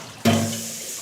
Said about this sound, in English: I'm gonna add some more water so that it doesn't get over.